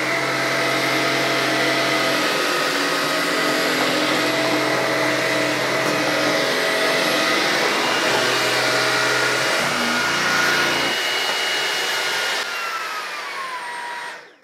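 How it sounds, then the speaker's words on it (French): A loud vacuum cleaner runs steadily on a floor, picking up hair, its motor whine and suction roar rising in power partway through before tapering off at the end. "Là, vous entendez la puissance d'aspiration qui augmente."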